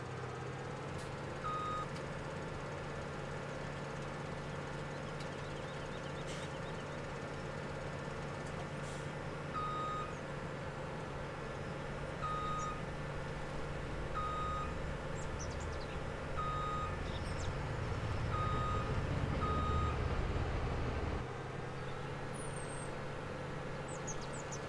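A truck in a driving simulator game sounds evenly spaced reversing beeps, repeating at a fixed interval over a steady engine drone that swells briefly near the end.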